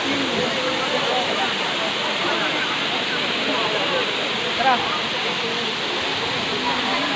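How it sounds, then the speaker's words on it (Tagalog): Daranak Falls in Tanay, Rizal pours as a steady, broadband roar of falling water, constant and fairly close throughout, with faint voices briefly audible beneath it. "Pagmasdan nyo po ang ganda ng Daranac Falls."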